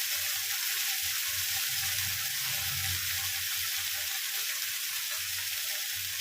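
Hilsa fish fried in oil, with a steady broadband sizzle running throughout and occasional low bubbling and stirring beneath, close and continuous with no talking.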